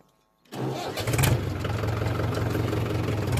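After a moment of silence, a Mahindra 475 DI tractor engine cranks and catches, then settles into a steady, rumbling idle close by.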